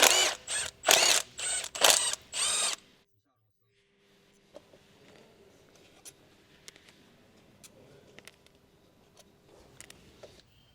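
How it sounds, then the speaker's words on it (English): An impact driver with a T30 Torx bit on a 2014 Jeep Patriot removes coil pack bolts in several loud, close, rattling bursts over the first few seconds. Quiet handling clicks and faint ticks follow. "with your T30 Torx bit on your impact, go ahead and remove the bolts that hold the coil packs down"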